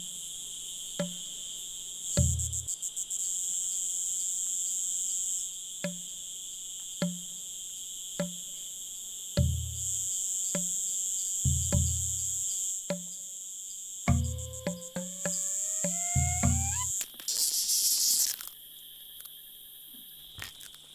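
A steady, loud high whine of cicadas fills the Madagascar jungle, with sharp crunching snaps and clicks breaking through at intervals.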